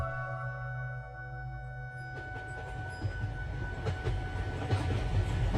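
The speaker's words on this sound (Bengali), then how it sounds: "স্টেশনে আসতেই ট্রেনটা পেয়ে গেলাম" Cartoon sound effect of a train pulling into a station: a steady low engine hum gives way to a rising rhythmic wheel rattle and clatter, with no voices.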